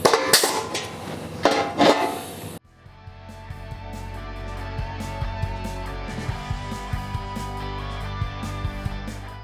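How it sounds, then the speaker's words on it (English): Sharp crackling bursts of tack welding on a steel cab corner panel of a 1954 Ford F600, loud and close for about two seconds, then a steady shop hum with scattered light clicks. "I go through and start tack welding it on"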